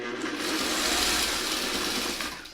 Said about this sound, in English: I'm just going to sew it with the bigger bottom.